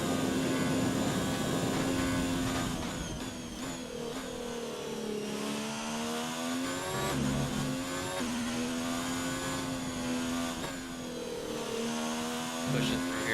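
An F1 car engine from the racing game F1 2019 screams at high revs, its pitch rising and dipping through gear changes and lifts, loud and continuous while someone talks over it.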